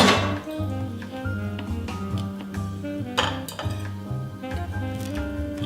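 Pan and plate clatter while plating matzah brei, with metallic clinks and knocks of cookware and dishes near and fairly loud, plus scraping and a few sharper hits, without speech.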